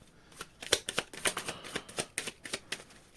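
A deck of oracle cards is shuffled by hand nearby, giving a rapid run of crisp riffling snaps and flutters with uneven rhythm, with no talking.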